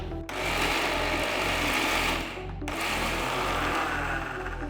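An electric mixer grinder whirs steadily while grinding horse gram chutney with a little water, a loud, close motor whine that pauses briefly midway and then starts again.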